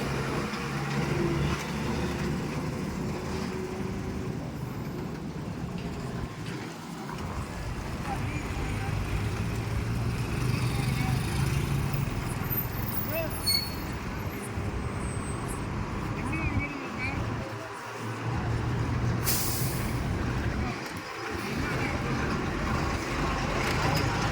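An overloaded truck passes on a road, a heavy, continuous engine rumble mixed with general traffic noise that swells and fades, while people's voices can be heard over it.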